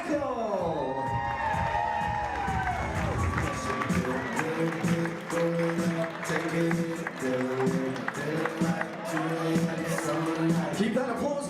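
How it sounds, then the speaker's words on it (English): Wedding guests clap and cheer as the bridal party enters the reception, a steady crowd roar with whoops and shouts under music that runs throughout. "Keep that applause coming for Nicole and Mark."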